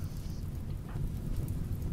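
Steady in-game rain on a survival-colony game map, a dense continuous hiss with low rumbling undertone throughout, no voices.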